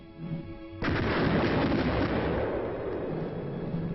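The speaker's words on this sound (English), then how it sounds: "Fighting with artillery and tank support, actually attacking a hill position." Heavy artillery fire during a military combat training exercise at a Jeju army training complex, with tank support in a hill assault: a sudden loud blast after a quieter start, then sustained rumbling bursts and booms.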